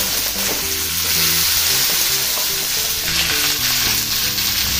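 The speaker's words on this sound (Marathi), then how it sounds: "आता मी ही जी गवार आहे ना ती सोडते आणि ह्याला मी चांगले तेलामध्ये शिजवून घेणार आहे" Cluster beans (gavar) dropped into hot spiced oil fry with a loud, continuous crackling sizzle, dense and close, with stirring clatter underneath and no voices.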